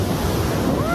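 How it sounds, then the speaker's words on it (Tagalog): Ocean surf washes steadily up a beach, a loud broadband rush with wind buffeting the microphone, continuous throughout. "Pero umaabot dito yung alon."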